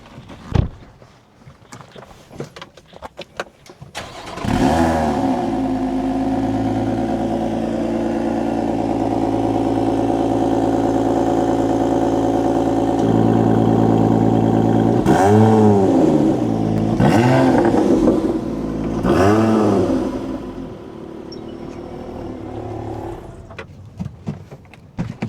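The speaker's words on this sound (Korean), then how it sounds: "시동을 한번 걸어보겠습니다" A Lotus Emira sports car cranks and fires up, then settles into a steady, rumbling idle before three sharp throttle blips rise and fall near the end, heard up close.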